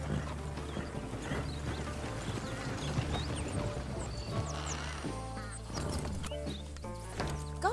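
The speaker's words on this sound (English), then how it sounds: "Damn horse!" Horse hooves clopping steadily in a Red Dead Redemption 2 game, with a brief whinny and a busy game soundtrack and ambience layered throughout.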